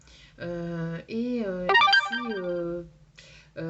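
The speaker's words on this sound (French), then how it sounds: "j'ai oublié de mettre mon portable" A mobile phone ringtone goes off during a French-language spiritual reading, a loud melodic tone pattern repeating in short phrases close by, with a brief pause between rings.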